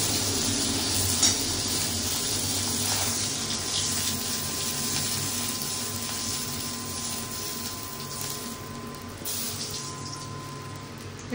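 Fish frying in a pan of oil: a steady, moderate sizzle and bubbling hiss that runs without a break, with occasional soft stirring or scraping sounds and no talking.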